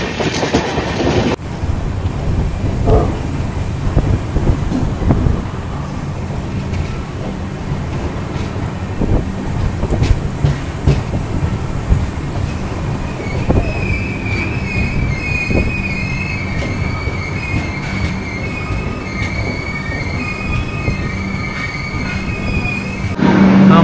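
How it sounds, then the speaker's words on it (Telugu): A train running on rails passes close by, loud and continuous, with rumbling wheels, rhythmic clatter and a high wheel squeal rising through the middle, heard alone without talk. "సో మన ట్రైన్ జస్ట్ ఇప్పుడే వచ్చింది"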